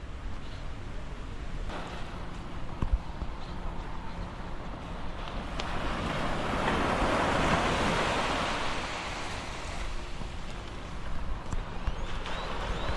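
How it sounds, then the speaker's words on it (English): Ocean waves roll onto a beach in Cartagena, Colombia, in a continuous surf wash that swells to a louder crash midway and then eases back, with wind in the background. "this chill little part of the beach is waiting for you"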